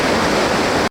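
Fast-moving treated water rushes loudly at the ALCOSAN sewage treatment plant, a dense, steady roar close up that cuts off abruptly.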